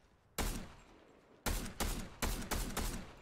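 Gunfire in the video game Fortnite during a trios match: one sharp shot, a pause, then four quick, evenly spaced shots, close and distinct against a quiet background.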